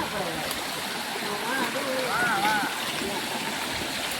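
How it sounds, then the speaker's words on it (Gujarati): Water flowing and falling in an outdoor stream, a steady broadband rush that fills the whole stretch, with faint distant voices and brief whistling or calls heard over it. "અહીં તો બહુ મસ્તીનું પાણી પડે છે"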